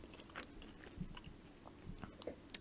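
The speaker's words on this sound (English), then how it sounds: "So you can probably hear me chewing" A person chews food close to the microphone, faint soft crunches and wet bites at an irregular pace.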